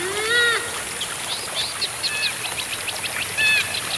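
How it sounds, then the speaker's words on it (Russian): Purple swamphen, or sultan hen, calling in a national park wetland: several rising, squealing whistled calls near the start and again toward the end, with thinner chirps between, over a steady trickling water background. "Зовут ее султанка или султанская курица, или немного нежнее султанская курочка."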